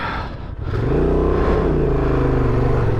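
A Honda Transalp 750 adventure motorcycle revs hard off-road as the rider slips the clutch, the engine dipping briefly then climbing into a loud, sustained rising drone up close, with no talking.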